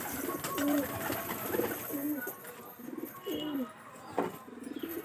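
Domestic pigeons coo close by in a run of soft, throaty calls spaced through the recording. A quiet room hum sits behind them, and a brief flutter comes near the end.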